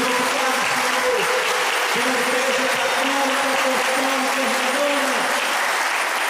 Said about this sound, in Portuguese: Agora aplauda o Senhor